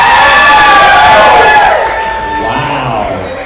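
Crowd cheering loudly at a live show in a club, with shouts and whoops rising at first and then fading slightly over a few seconds.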